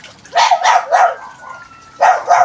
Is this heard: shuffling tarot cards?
no